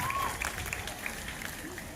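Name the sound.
zoo audience applause at seal show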